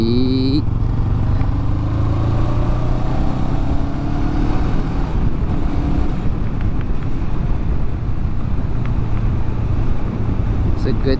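A motorcycle rides along at steady speed, its engine droning loud and close throughout with heavy wind buffeting the microphone.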